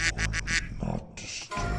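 Several short nasal quacks come in quick succession, a person imitating a duck during an online game raid, followed by a longer drawn-out quack.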